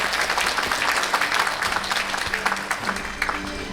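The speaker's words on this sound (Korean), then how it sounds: "사모님께 다시 한번 큰 박수 부탁드리겠습니다." A big round of applause at a book launch event for the Chungbuk provincial governor, as a hall full of people claps steadily and densely for several seconds with no one speaking.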